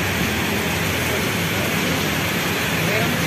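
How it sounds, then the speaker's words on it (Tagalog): Heavy afternoon rain pours steadily outdoors near an MRT line in the Philippines, a dense, loud, unbroken hiss with no pauses. "Ayan na, lumakas na yung ulan"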